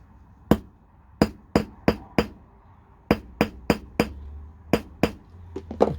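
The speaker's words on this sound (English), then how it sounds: "to rest that on while I peen the top of that screw over, that rivet over" Hammer peening a rivet over on a homemade tap wrench in a workshop: about a dozen sharp metallic strikes, close and loud, in uneven groups with short pauses, no talking.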